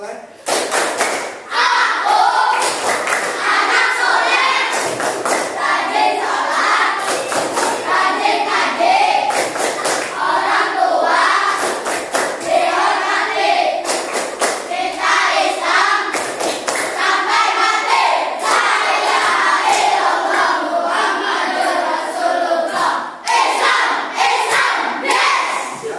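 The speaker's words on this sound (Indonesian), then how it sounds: "Silakan tepuk anak soleh" Children perform the tepuk anak soleh clapping chant in a classroom, chanting loudly in unison while clapping in sharp rhythmic bursts with thumping accents, continuing for about twenty-five seconds.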